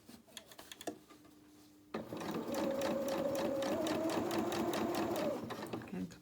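A sewing machine stitches a trouser hem, starting with a few soft clicks and handling noises, then settling into a loud, fast, even mechanical whir with a rapid needle rhythm before stopping.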